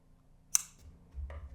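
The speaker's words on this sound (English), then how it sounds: "Cut the yarn," Scissors snipping through crochet yarn: one crisp, close cut followed by a fainter second snip, with quiet handling noise and a low rumble afterward.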